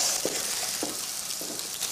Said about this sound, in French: on mélange bien au risotto